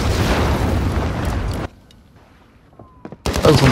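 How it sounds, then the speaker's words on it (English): A loud, dense burst of gunfire-like booms from a video game explosion fills the first second and a half, drops to near silence, then another heavy blast erupts at the end. "That was the loudest fucking explosion I think I've ever heard"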